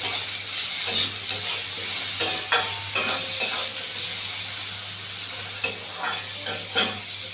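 Salted potatoes fry in a pan, a constant loud sizzle broken by repeated scraping stirs of a spatula, close up with no talking.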